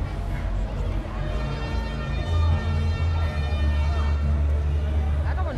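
A wailing siren at a carnival parade in Arnstadt rises over the street crowd noise and swells louder midway, with people talking nearby.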